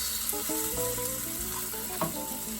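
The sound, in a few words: salmon fillet sizzling in pan after being flipped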